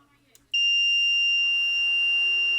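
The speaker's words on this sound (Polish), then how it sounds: "te zasilacze jak się włączy jeden, bo tu ma taki fajny przycisk, y, to piszczy alarm, że jeden nie działa" A power supply alarm starts suddenly after a quiet moment and holds a loud, continuous high-pitched electronic beep; the tone is piercing and steady, with faint background noise before it begins.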